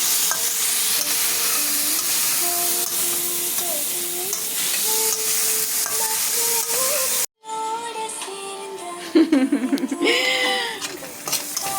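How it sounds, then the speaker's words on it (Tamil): Onions frying in coconut oil with cumin seeds, asafoetida, ginger and green chilies: continuous sizzle and hiss with stirring scrapes, then a brief cut and louder bubbling spatter, with some background voices. "you fried the onions very well, Chikku"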